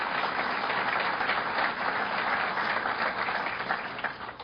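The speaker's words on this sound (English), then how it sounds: "Let's give him a round of applause" An audience at a Suffolk County budget address gives Bob Megna a round of applause, steady even clapping that fills the room and fades slightly at the end.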